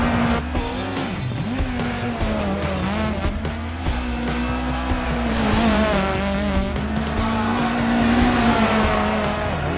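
An Opel Adam rally car in DiRT 4 on a Michigan stage, its engine droning loud and steady throughout at high revs with shifting pitch, tires squealing and gravel noise underneath, no talk.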